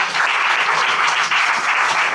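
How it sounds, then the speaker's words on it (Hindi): Church congregation at a Sunday prayer service clapping together, a loud, close, steady burst of many hands. "बजाओ ताली"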